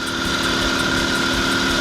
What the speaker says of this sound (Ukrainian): далі чути мотор вже так, знаєте, напрягається конкретно там від оборотів